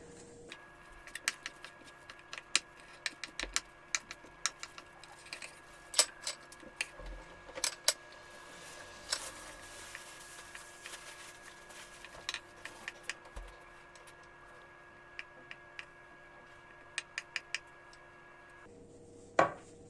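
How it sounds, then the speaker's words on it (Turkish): Sharp, irregular knife taps on a cutting board as kashar cheese is chopped, a steady run of chopping clicks against a low background hum, close by with no voices. "öncelikle kaşarlarını doğrayarak başlayacağım"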